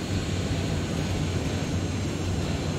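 Helicopter flying over a bridge in the video game Terminator Resistance: a loud, steady rotor and engine drone that fills the whole stretch with no speech over it.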